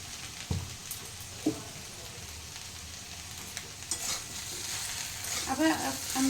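Okra and vegetables frying in a pan with Kashmiri chili powder over medium flame, a steady soft sizzle with a few spoon-scraping stirs and clinks at close range.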